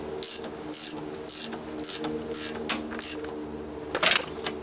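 A wrench tightening a bolt on a homemade garden hoe gives a series of rhythmic ratcheting clicks in short bursts, close up over a low background hum.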